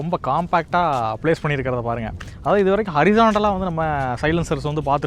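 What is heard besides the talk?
No distinct noise like a dog, phone or traffic.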